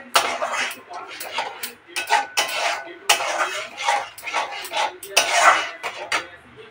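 A utensil stirs a yogurt and ground coriander mixture in a pan, making repeated clinking and scraping strokes that are close, fairly loud and unevenly rhythmic, with no talking.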